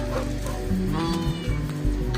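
A pet cat meows indoors at home, a few close, clear calls repeated over a steady background hum, with no talk over them.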